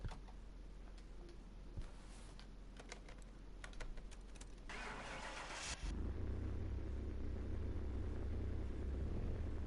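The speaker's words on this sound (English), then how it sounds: "I wonder if this actually sounds like a Mark III RS though." A Mark III RS car in Car Mechanic Simulator 2021 starts up after some clicking, its engine settling into a steady, loud low idle that runs to the end.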